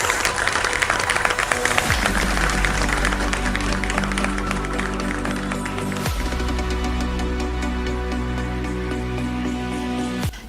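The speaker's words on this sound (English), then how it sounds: "please join me in a warm round of applause" Audience applause for industry special award winners at the I-RITEC 2025 research and innovation event, sustained steady clapping from a large hall crowd, mixed with background music and a few tonal shifts.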